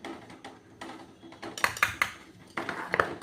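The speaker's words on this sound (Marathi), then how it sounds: "कॉर्नफ्लॉवर हे पीठ आहे ते टाकत आहे ह्या पळीने दोन पळी टाकत आहे" A metal ladle knocks and scrapes against a cooking pot while two ladlefuls of cornflour go in, giving a run of sharp clinks and clatters, loudest in two bursts, close by with no talk.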